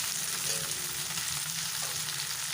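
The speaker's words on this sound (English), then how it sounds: "Let it fry nicely" Cluster beans and onions frying in hot oil with ginger and garlic, a dense, even sizzle holding steady throughout, close and alone without any voices.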